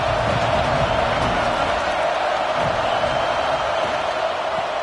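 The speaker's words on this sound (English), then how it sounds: "This crowd knows when to bring it." Football stadium crowd cheering as a dense, steady roar of many voices, loud and continuous throughout.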